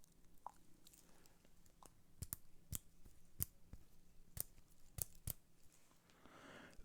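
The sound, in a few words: Baltic Aquascaphe titanium watch bezel rotating clicks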